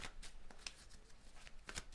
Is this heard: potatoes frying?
no